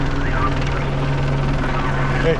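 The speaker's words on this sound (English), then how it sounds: "That's the helicopter." A helicopter drones steadily with a low rhythmic rotor thump, loud and continuous, while a person briefly calls out.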